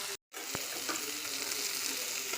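Dam fish frying in hot oil, a steady, dense crackling sizzle close to the microphone, with a brief dropout near the start and a few small pops and clinks from stirring.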